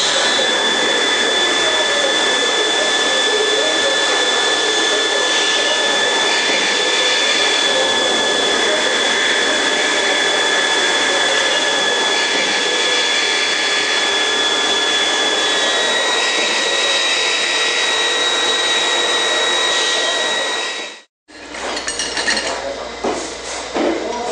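A factory machine cuts a rifle receiver for the barrel, giving a loud, steady industrial whine with high tonal lines that runs unbroken for about 21 seconds, then stops abruptly before a brief burst of noise.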